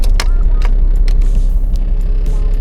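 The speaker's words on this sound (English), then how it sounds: "First time fires up, that's always a good sign." A Toyota 80 Series engine turns over and fires on the first try, settling into a loud, steady low rumble close by, with a few sharp clicks and knocks over the idle.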